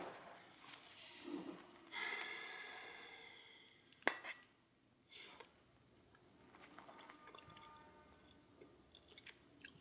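Someone eats cajeta-breaded bull fries with a peppermint-schnapps mushroom sauce and garlic parsnip smash, with quiet, close chewing, sniffs and faint cutlery and plate clinks at a low level.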